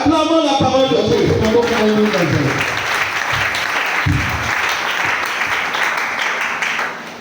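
A church congregation breaking into applause during a prayer service, a dense burst of clapping that gradually thins, with some voices mixed in.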